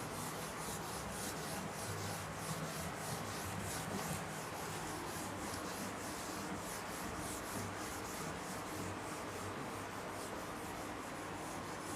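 A board being wiped clean of writing makes continuous, rhythmic back-and-forth rubbing strokes, soft and close, with no voices.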